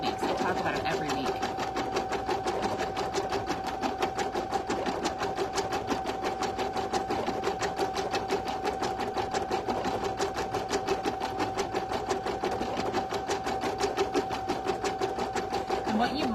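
A domestic embroidery sewing machine stitches on plush Minky fabric, a steady fast mechanical rattle of needle strokes with a constant motor hum throughout, while a person talks over it.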